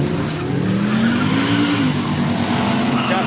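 A little Mazda Bravo street racer with a turbo LS engine spins its tyres at a quick-street drag event, engine droning loud and tyre squeal rising then falling, with crowd and track noise around it.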